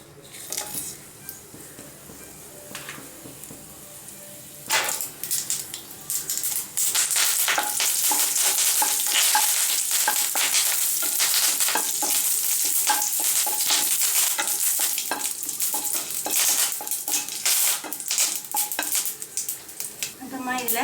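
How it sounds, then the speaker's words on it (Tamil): Mustard seeds, dried red chilies and curry leaves crackle and sizzle loudly in hot oil, with dense popping and spattering alongside scraping of a metal spoon against the pan throughout. "இப்போது எண்ணெய் நல்லா ஹீட் ஆனதும் இதில் எடுத்து வச்சுக்கிற கடுகு, காஞ்ச மிளகாய், கருவேப்பிலை எல்லாத்தையும் உள்ள சேர்த்துடலாம்"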